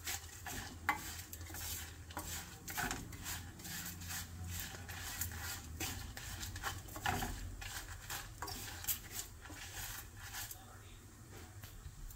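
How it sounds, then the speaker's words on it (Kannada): Sesame seeds roast in a pan on a stove for a South Indian radish chutney, giving a faint, steady patter of stirring and light sizzling with scattered small clicks and scrapes. "And the sesame seeds should pop. Until then we have to roast it."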